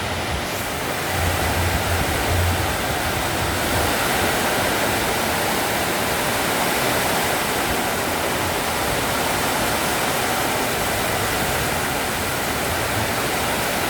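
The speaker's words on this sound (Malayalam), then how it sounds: "വളരെ ശക്തമായ ഒരു മഴ തന്നെയാണ് ഇപ്പോൾ." Heavy rain pours off a roof in a dense, loud, unbroken roar of falling water that stays steady from start to finish, close by with no voices.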